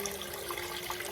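Tap water runs into a pot holding chicken, a quiet, steady splashing stream heard close with no voices over it.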